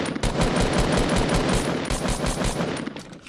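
A rapid, continuous burst of automatic gunfire in Fortnite Battle Royale, loud and dense, with no pauses.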